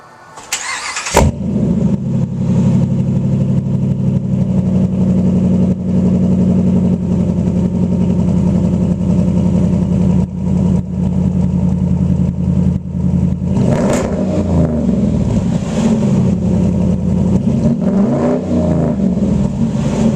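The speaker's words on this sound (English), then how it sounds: "you get to hear how the Hemi sounds with the new Flowmasters." A 2011 Dodge Durango Citadel with its Hemi V8 and Flowmaster exhaust cranks and fires up, then settles into a loud, deep, burbling idle, with a couple of throttle blips swelling the rumble near the end.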